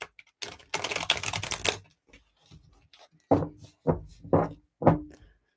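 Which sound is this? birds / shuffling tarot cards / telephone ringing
shuffling tarot cards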